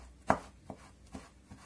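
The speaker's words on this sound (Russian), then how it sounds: "Теперь измельчим каперсы." Canned capers being chopped with a knife on a board: four sharp, separate knife strikes spaced out with short pauses, close and clear with no talking.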